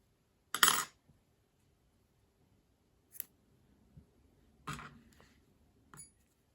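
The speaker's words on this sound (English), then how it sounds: "So we're going to cut and tie the yarn." Scissors snip crochet yarn in a quiet room, making a few short, crisp clicks and snips separated by silence.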